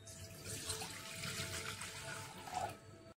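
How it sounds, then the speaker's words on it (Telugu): Water pours into a bowl in a steady, fairly faint splashing stream lasting about three seconds before stopping abruptly. "ఒక బౌల్ తీసుకొని అందులో వాటర్ వేసుకోవాలి"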